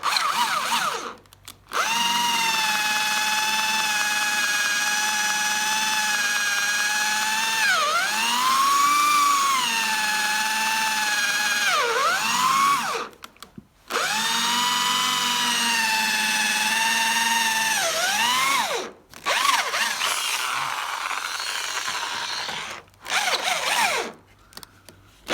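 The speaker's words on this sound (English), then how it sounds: "Like I said, very old, very hard to drill through." A power drill whines loudly and steadily in long bursts drilling very old, hard wood on a roof scaffold, its pitch sagging as the bit bogs down, with brief pauses between runs.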